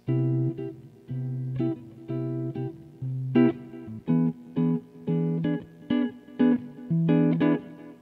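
Jazz chords are comped in short rhythmic stabs, some held longer, played alone at moderate volume with a steady swinging pulse.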